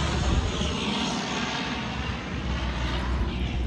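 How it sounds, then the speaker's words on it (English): Airplanes fly overhead in Nairobi, Kenya, a loud, steady engine roar that fills the whole stretch with a dense, continuous rumble and no talking. "So many planes flying overhead here."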